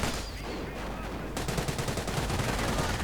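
Dense, sustained gunfire from a World War II video game battle against Panzer Grenadier infantry, with rapid overlapping automatic bursts and single shots crackling continuously at close range, a faint voice briefly underneath.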